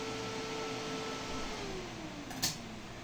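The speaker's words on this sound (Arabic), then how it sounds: "الباور سبلاي يخرج 12 فولت وهي المروحة تدور، تسمعون صوت المروحة" A desktop computer power supply fan spins on 12 volts after being repaired, giving a steady, even whir and hiss that holds constant throughout, with one brief faint click near the end.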